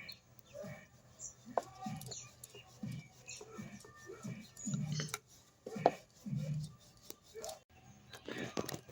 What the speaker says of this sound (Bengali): এইভাবে ভাঁজ করে এবার আমি নিমকির আকার এই যে বেলে নেব।